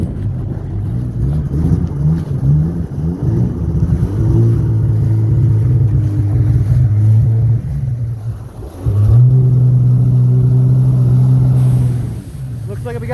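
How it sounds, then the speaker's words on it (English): A 1998 Sea-Doo GTX Limited personal watercraft idles on the water with a steady, droning engine hum that steps up in pitch briefly before settling again, loud and close, with someone talking over it. "We're idling at about 1450 or so RPMs"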